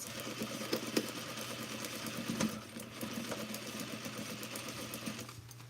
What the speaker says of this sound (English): So I'm going to sew this.